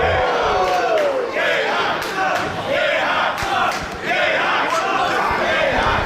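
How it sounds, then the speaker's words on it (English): A wrestling event crowd split between two wrestlers, chanting loudly in alternating rhythmic waves with shouts and cheers filling the arena. "Split crowd for Yehai."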